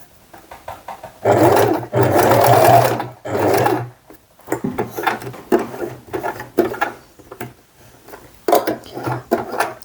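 A sewing machine runs in three loud bursts while stitching an adjustable bag strap, with a back stitch, followed by quieter handling clatter and intermittent knocks.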